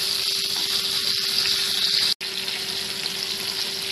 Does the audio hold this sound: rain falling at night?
no